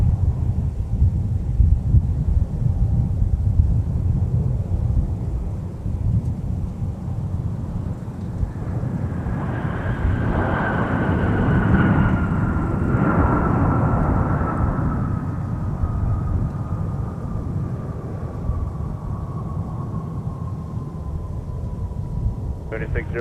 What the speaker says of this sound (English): So Sun Country flight from Phoenix about to land